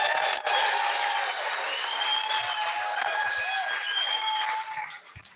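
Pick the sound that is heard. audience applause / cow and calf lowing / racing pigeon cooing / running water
audience applause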